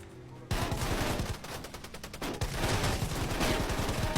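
Rapid automatic gunfire from the mobile battle-royale game Rules of Survival: dense, repeated bursts of shots fire almost continuously after a brief quiet start, loud and close.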